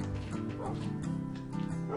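Dogs in Minecraft barking and yipping in rapid overlapping bursts with whimpering tones, close and fairly loud, filling the short stretch without pause.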